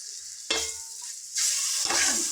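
Ginger garlic paste sizzles and fries in a pan with turmeric, a steady hiss that surges as fresh bursts hit the hot oil, with brief stirring scrapes between.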